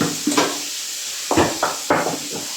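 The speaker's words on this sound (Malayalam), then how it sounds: "ഇനി ഒന്ന് ഇളക്കി കൊടുക്കാം" Beef curry stirred in a pan after salt is added, several distinct scraping strokes of a spoon against the pan over a low sizzle.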